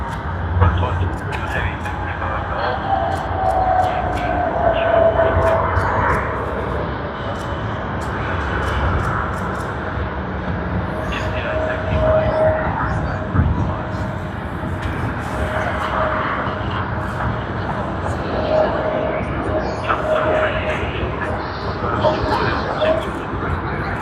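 An airliner taxis past at Sydney Airport, its steady jet-engine rumble and thin droning whine holding for a long stretch at moderate distance while a person talks over it.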